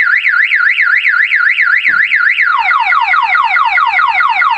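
A car alarm blares loud and close, a rapidly warbling electronic tone that switches partway through to a faster falling whoop pattern, repeating steadily with no voices.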